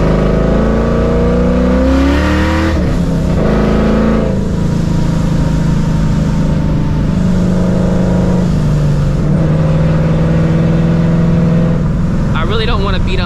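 A supercharged 2004 Mustang GT with straight pipe exhaust revs and pulls through gear changes, its loud engine note rising and falling in several surges close by, with a person speaking over it.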